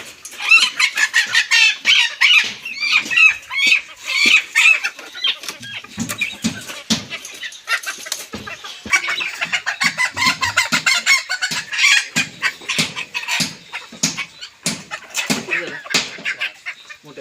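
Country chickens cluck agitatedly in a close, busy chorus, with occasional crowing, while being packed into crates for sale.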